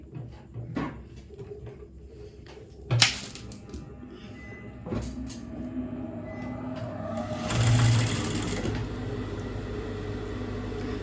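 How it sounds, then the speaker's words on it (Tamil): A sewing machine hums steadily while stitching invisible piping close to a seam line, with occasional clicks and knocks of fabric handling and a louder whirring burst near the end. "ஸோ இந்த லைனுக்கு பக்கத்துலேயே வச்சு தைக்கிறோம்"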